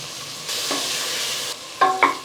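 Tomatoes with salt sautéing in hot oil in a pan for mutton biryani: a steady sizzle, a brief scrape of stirring, then two sharp clinks of a spoon against the pan.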